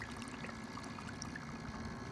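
Water drains steadily from an aquaponics tank, a soft continuous trickling and gurgling wash that stays faint and even throughout, with no talking.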